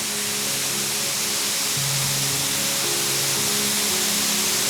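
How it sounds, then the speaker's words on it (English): Sylvia Falls, a waterfall in the Blue Mountains, pours in a steady, dense broadband roar of falling water, loud and continuous throughout, with no voices over it. "The waterfall's flowing really nicely."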